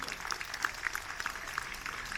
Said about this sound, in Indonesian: Kita berikan tepuk tangan hadirin sekalian.